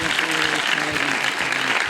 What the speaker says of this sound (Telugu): సురేష్ జోసఫ్ గారికి ఒకసారి గట్టిగా చప్పట్లు కొడదాం